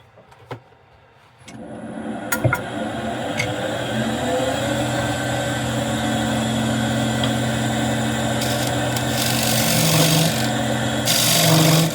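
Steady, continuous rasping of a hand tool scraping black walnut, thinning the walls of a wooden cookie jar, loud and close, after a few sharp knocks at the start.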